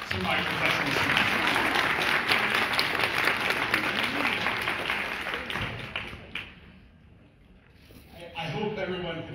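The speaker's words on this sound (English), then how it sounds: "can I ask for another round of applause for both our professional singers and our semi-professional singers" A crowd applauds singers at a G20 swearing-in ceremony, dense sustained clapping that holds strong for several seconds, then fades out, with a faint voice starting up at the tail.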